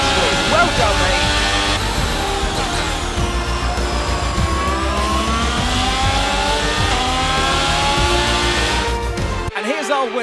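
A Ferrari Formula 1 car in the F1 22 racing game, its engine note rising and falling in loud rolling revs with tire squeal as it pulls into parc fermé, a commentator talking over it before an abrupt cut at the end.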